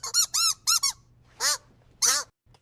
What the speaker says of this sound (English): nervous squeaks from the rubber duck